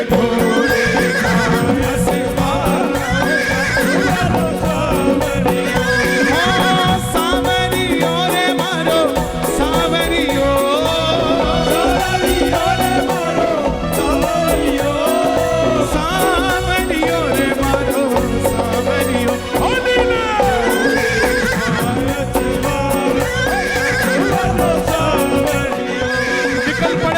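Horse neighs and clip-clopping hooves play as a sound effect within a Hindi devotional song about Khatu Shyam's blue horse, sitting among a continuous, loud musical mix of vocals and instruments.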